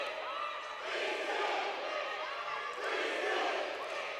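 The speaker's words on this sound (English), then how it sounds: "Listen to the crowd." Crowd at a women's college volleyball regional playoff match chanting in rhythmic swells, a rising and falling group chant in a gym, moderately distant, with an announcer's voice talking over it.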